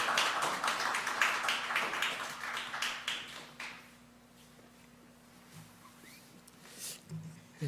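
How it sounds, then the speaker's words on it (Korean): A church seminary small-group audience claps together for about four seconds, a close, busy patter that thins out and leaves the room nearly quiet. "박수 좀 해주세요"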